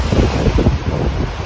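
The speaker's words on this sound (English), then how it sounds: "The ocean." Ocean waves and gusting wind roar steadily and loudly, with heavy low rumble and wind buffeting close to the microphone, no voices.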